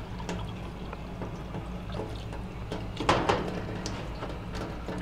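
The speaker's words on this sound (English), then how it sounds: "Turn the ionizer on, nice flow, pull the acid water out." Water runs steadily from a kitchen tap through a water ionizer, a continuous broadband hiss with a brief louder splash partway through.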